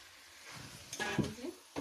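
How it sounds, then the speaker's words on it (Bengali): Mutton marinated in sour yogurt goes into a pan of fried spice paste, giving a brief soft sizzle and stirring scrape, close and fairly quiet. "এই যে আমি টক দই দিয়ে মাখিয়ে রেখেছিলাম মাংসটা এবার দিয়ে দেবো"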